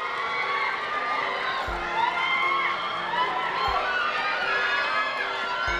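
Crowds of fans scream and cheer as six members of a music group, returning from their US concert tour, arrive in Korea; a dense, steady wall of high-pitched shrieks runs throughout, with a few low thumps beneath.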